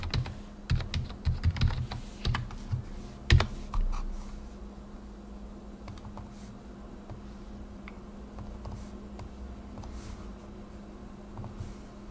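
A password is typed on a computer keyboard during a Linux Mint 22.2 login: a quick run of close, crisp keystrokes at the start, then a low, quiet hum.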